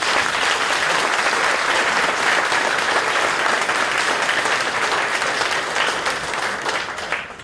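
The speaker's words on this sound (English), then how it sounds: "if you would like to applaud the mayoral candidates" An audience at a mayoral debate applauds the candidates: dense, loud clapping sustains for several seconds, then tapers off toward the end.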